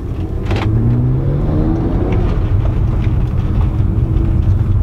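A BMW 335i with a RAMAIR intake filter drives along, its engine hum steady and close with a faint rising turbo spool whistle over the road rumble, and no one speaks.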